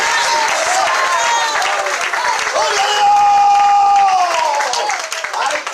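Church congregation applause during a sermon on following the risen God, a broad crowd clap mixed with cheering voices and a sustained musical tone, loud and continuous.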